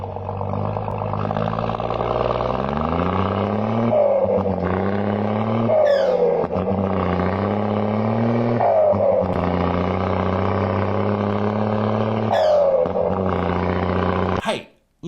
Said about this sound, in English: Playing the audio of a semi-trailer, a giant truck getting up a hill